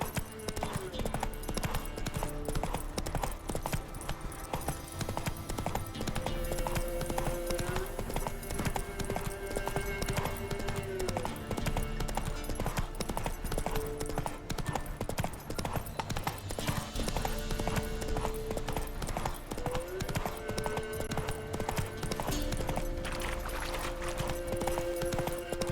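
Horse hooves clip-clopping at a gallop in The Witcher 3: Wild Hunt, a rapid, steady rhythmic pounding running throughout, with a game music bed and occasional voices talking over it.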